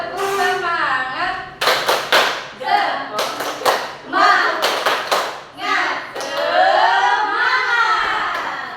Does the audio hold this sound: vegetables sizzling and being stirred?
no